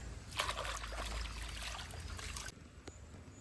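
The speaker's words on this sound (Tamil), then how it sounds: "தண்ணி கட்டுறாங்க" Irrigation water pours and splashes into a home garden field planted with papaya, tomato and brinjal. A close, steady gush stops abruptly partway through, leaving only a quiet background.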